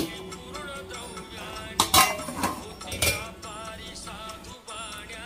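A metal lid is set onto a pot of sheera, semolina pudding cooked as prasad, giving a few sharp metallic clinks and clatters over quiet kitchen background.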